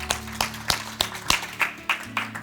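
A church congregation claps for the Lord in a quick, steady rhythm, the sharp claps evenly spaced over a low room hum.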